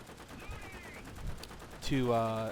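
Aircraft guns fire in War Thunder in short rapid bursts, sharp staccato cracks over a droning engine, ending with a louder tonal burst of noise.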